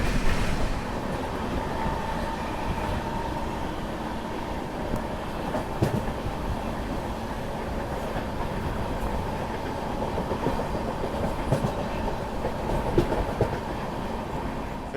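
A Bilaspur–Bhagat Ki Kothi Express rolls along in Indian Railways service, heard from inside the carriage as a continuous rumble with faint rhythmic wheel clatter and occasional sharp clicks over the rail joints.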